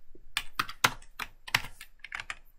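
Close, crisp keystrokes on a computer keyboard as code is typed, arriving in uneven clusters of sharp clicks with brief pauses between them and no talking.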